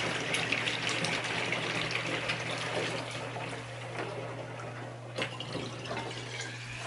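Water is poured into a microgreens sprouting incubator container, a steady hissing gush with a low constant hum underneath, fairly quiet and without talk, easing slightly midway.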